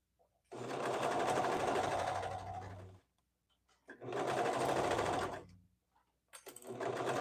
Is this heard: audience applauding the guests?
no